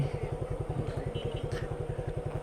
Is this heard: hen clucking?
no